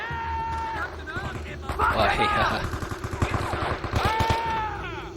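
Gunfire in the World War II-era video game Men of Valor, with rapid bursts of rifle and automatic fire mixed with shouting voices and a sustained tonal sound, busy and loud throughout.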